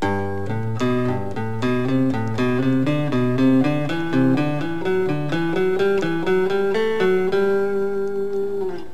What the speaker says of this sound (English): ascending scale of thirds,